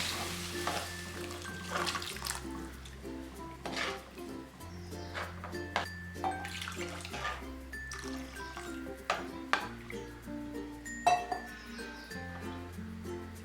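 Kerala fish curry masala in a clay pot stirred after water is added, with repeated clinks and scrapes of a spoon against the pot over a low bubbling wet sizzle, fairly quiet with a steady background hum.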